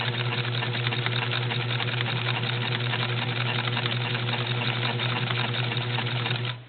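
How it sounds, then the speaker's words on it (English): A Necchi sewing machine runs continuously while stitching a buttonhole in reverse, a steady fast mechanical whir and clatter held close for several seconds before stopping abruptly at the end. "Now it stitches backwards."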